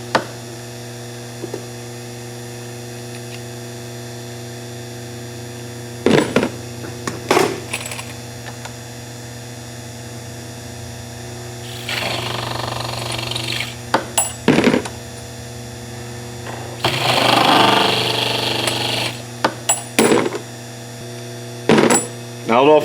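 Powered case trimmer with carbide blades shortening 300 Win Mag brass cases on a reloading bench, giving short bursts of whirring cutting several times over a steady mains hum, with brief clicks between trims and no talk.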